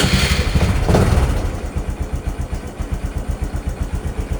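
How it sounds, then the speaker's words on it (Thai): A Honda Wave 125i motorcycle engine cranks and fires up loudly, then settles into a steady, rhythmic idle with regular low thumps. "ก็จะมีเสียง ปั๊มติ๊กทำงานแล้วก็ก็จะดับแล้วก็ เราก็สตาร์ทเครื่องยนต์ได้"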